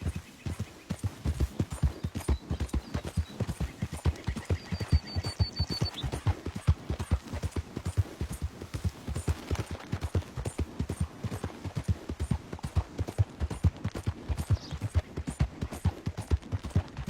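Galloping horse hooves from Red Dead Redemption 2 pound in a steady, rapid rhythm throughout, close and loud, with a brief high whine partway through.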